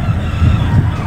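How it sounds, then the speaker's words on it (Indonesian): Chickens cluck and crow nearby on a street, loud and close, with a steady low rumble of traffic or engine noise underneath. "Ada ayam."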